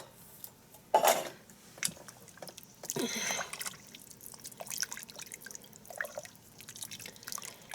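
Spoon stirring chili beans with white kidney beans in a metal pot, giving close wet clinks and scrapes against the pot with a few louder knocks, then softer intermittent stirring.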